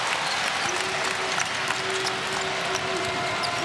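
A basketball arena crowd roars and applauds after a dunk in a college game between George Mason and Kansas, a dense, sustained wash of cheering that holds steady throughout with a high whistle-like tone running beneath it.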